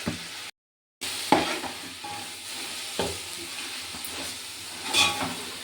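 Whole spices crackle and sizzle in hot oil for a tempering, a steady close hiss broken by a few sharper pops and one short gap of silence, with no voices.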